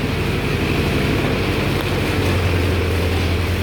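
A small tractor engine runs steadily in a field with a loud, continuous low drone and rumble. Wind buffets the microphone throughout.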